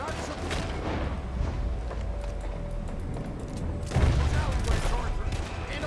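Dense gunfire in the Red Dead Redemption 2 video game runs as a continuous rattling fusillade with a heavier burst near the end, loud and mixed with game noise.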